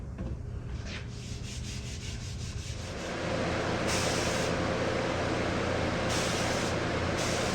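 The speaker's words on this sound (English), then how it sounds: "So I'm going to lightly sand it with 320." A lacquered wood furniture panel is lightly sanded with 320-grit paper, a steady close rubbing hiss that grows louder and denser partway through and continues alone without speech.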